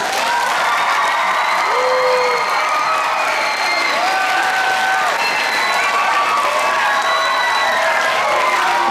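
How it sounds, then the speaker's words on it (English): Schoolchildren clap and cheer for veterans in a school gathering, a steady, energetic wash of applause with high-pitched whoops and shouts rising over it from a large young crowd. "I think we can do our most enthusiastic clap and cheer"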